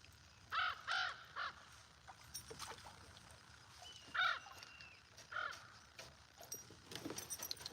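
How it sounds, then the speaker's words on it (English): Crows caw repeatedly beside a lake, several loud harsh calls in bursts near the start and more scattered caws later, with faint outdoor background. "These birds are going crazy over here now."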